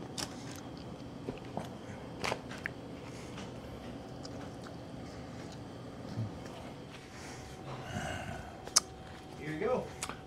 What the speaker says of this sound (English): Good and crunchy. That's a good kosher dill.